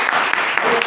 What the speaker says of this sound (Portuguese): Vamos lá, gente, uma salva de palmas então para Martinha